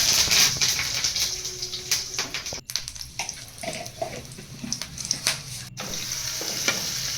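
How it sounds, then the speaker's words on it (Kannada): Mustard seeds and curry leaves crackle in hot oil as a chutney tempering. The sizzle is close and lively with pops and short bursts, dipping and rising as the pan is moved and stirred. "ಎಣ್ಣೆ ಸಾಸಿವೆ ಕರ್ಬೇವಿನ ಸೊಪ್ಪು ಹಾಕ್ಕೊಂಡು ಸ್ವಲ್ಪ ಹಿಂಗೆ ಹಾಕ್ಕೊಂಡು ಒಗ್ಗರಣೆ ಹಾಕ್ಕೊತಾ ಇದ್ದೀನಿ ಚಟ್ನಿಗೆ"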